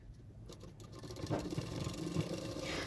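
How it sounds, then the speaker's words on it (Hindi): A sewing machine runs fairly quietly, stitching the shoulder seam of a boat-neck princess-cut blouse with a steady, soft mechanical patter that builds slightly toward the end. "शोल्डर सिलाई कर रही हूँ"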